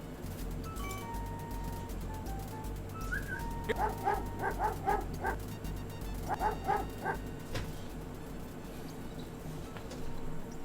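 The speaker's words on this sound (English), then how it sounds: "A bully of a dog terrorizes the poor ants as he playfully digs at their large" Dog barking and yipping while digging at a large anthill in the video game King's Quest V, two quick bursts of small, pitched yaps over looping game music.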